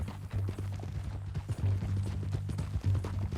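A horse's hooves clip-clop in Red Dead Redemption 2, a steady rhythmic trot of muffled thuds heard up close at moderate volume over a low rumble.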